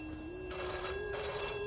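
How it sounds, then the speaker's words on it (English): An old telephone rings in a 1981 British crime radio drama: two bright, trilling bursts of the bell, close and clear over a faint background hiss. "Answer that bloody phone!"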